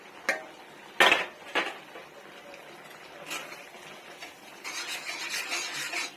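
A spoon clinks and scrapes in a pan as fried potatoes are stirred into pasta, with a few sharp knocks early on and then a softer continuous stirring rustle.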